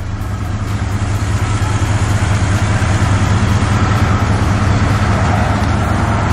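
Engine of a 1985 Box Chevy running steadily with the AC on, a constant low idle-like rumble with broadband road and cabin noise, loud and continuous throughout with no talk.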